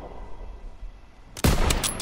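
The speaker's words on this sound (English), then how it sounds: "Lay suppressive fire so they can take out those flat guns." Suppressive gunfire in the Call of Duty WW2 campaign mission Stronghold: after a quiet stretch of low ambience, a sudden loud burst of close shots breaks out and keeps crackling with sharp repeated reports.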